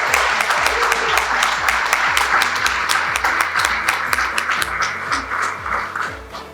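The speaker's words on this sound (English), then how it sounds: "put our hands together for a round of applause for the graduating class of 2022" A crowd at a secondary school graduation ceremony claps for the graduating class of 2022, dense steady applause with distinct individual claps, loud and continuous, tapering slightly toward the end.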